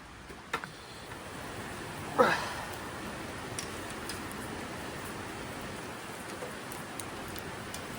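Steady rain pattering on a surface during a break in a gravel bike build, a soft, even wash of drops with a single brief louder tap early on, no voices.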